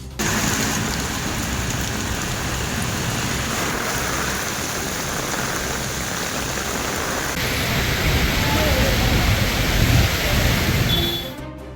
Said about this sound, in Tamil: நுங்கம்பாக்கம், அம்பத்தூர், கொளத்தூர் பகுதிகளில் பலத்த காற்றுடன் மழை பொழிவு